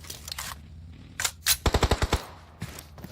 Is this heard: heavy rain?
no